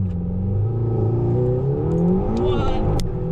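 A 2020 McLaren GT with a turbocharged engine accelerates hard, its engine note climbing in pitch as revs rise, loud and close from inside the cabin, with a voice speaking over it.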